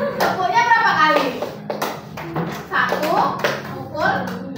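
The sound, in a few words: children clapping and tapping in a rhythm game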